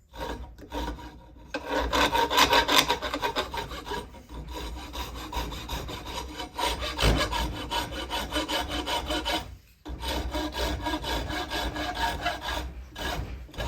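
A finer file rasps steadily against steel while a knife is shaped from an old file, long continuous back-and-forth strokes with brief pauses, close and fairly loud with no talking.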